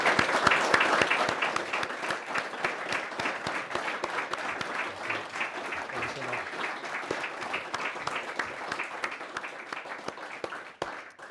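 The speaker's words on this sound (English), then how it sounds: "So let's please give Colin a round of applause again." An audience applauds Professor Colin Mayer at the close of an Adam Smith lecture in Scotland, with sustained, crisp clapping from a large crowd that stays loud and fairly even before thinning out at the end.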